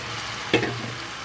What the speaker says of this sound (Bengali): আর এর মধ্যেই আমি দিয়ে দেবো ম্যারিনেট করা যে মাংসটা করে রেখেছিলাম, এই মাংসটা আমি ঢেলে দেবো